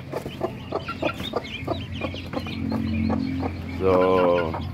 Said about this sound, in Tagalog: So yan yung mga sisiyo niya mga farmer.